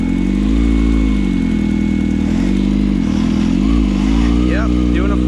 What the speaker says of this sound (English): Yep, doing a fucking burnout.